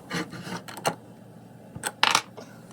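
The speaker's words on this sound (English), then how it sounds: "take a skew and you're going to back cut the cleat a little bit" A skew chisel back-cuts a wooden cleat on a lathe for a white oak and walnut segmented bowl, giving short scraping, rasping bursts separated by quiet gaps, close by.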